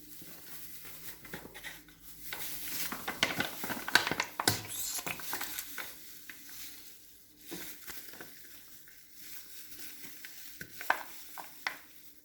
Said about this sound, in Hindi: हम इस सैंडविच के मिक्सचर को अच्छे तरीके से मिक्स करते हैं।